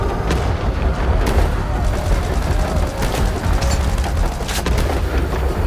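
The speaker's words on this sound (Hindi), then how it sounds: "और तभी अचानक एक और विस्फोट होता है।" An explosion bursts in an animated Hindi children's story, loud rumbling blasts and crackling booms filling the whole span, with a few sharp bangs standing out above the dense roar.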